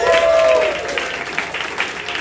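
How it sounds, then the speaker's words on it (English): Audience applause at a comedy show, a short steady round of clapping from the crowd that fades slightly, with a voice briefly heard over the start. "Give them a round of applause."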